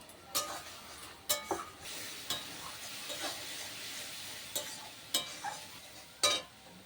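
Spice paste being sautéed in a pan, a soft low sizzle broken by repeated sharp scrapes and taps of a spoon stirring against the pan, close and fairly quiet with no talk.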